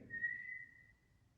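In a room of Antwerp Mansion, a single thin, steady whistle tone holds for about a second, then fades out over a low, quiet background rumble.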